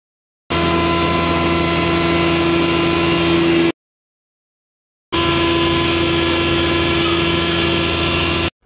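A home flour mill grinds multigrain ragi malt with cardamom in two steady bursts, a loud constant whirring drone with a strong hum that runs for about three seconds, stops dead, then starts again.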